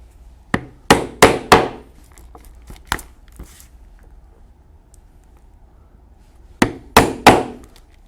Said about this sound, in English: we have 4 more holes to punch, and these will be for the purpose of setting some rivets